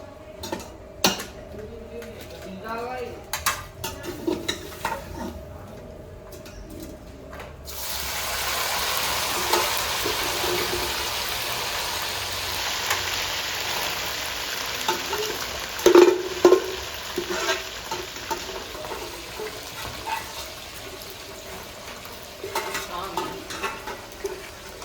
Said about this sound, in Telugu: ఈ మిగిలిన చికెన్ కూడా వేసేసి ఫ్రై చేసేసుకున్నాము